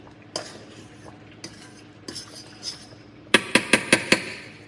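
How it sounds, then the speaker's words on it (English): A metal spoon stirs jasmine rice in a pot, scraping and clinking softly a few times, then tapping sharply on the rim five times in quick succession near the end. "Stir our rice one more time."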